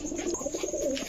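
Pigeons, black checker racers among them, coo softly nearby in a brief run of low throaty warbling calls.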